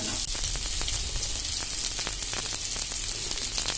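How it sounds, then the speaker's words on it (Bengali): Thinly sliced, hand-crushed onions frying in oil in a pan, a dense, continuous crackling sizzle with scattered sharp pops throughout, close and fairly loud, no voices. "পেঁয়াজ হাত দিয়ে কচলিয়ে দিয়ে দেব, যাতে তাড়াতাড়ি ভাজা হয়ে যায়।"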